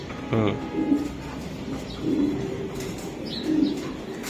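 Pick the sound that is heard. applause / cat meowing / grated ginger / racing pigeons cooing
racing pigeons cooing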